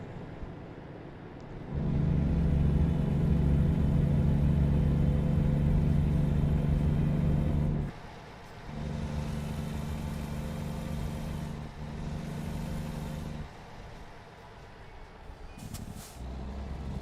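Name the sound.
modded truck engine in American Trucking Simulator video game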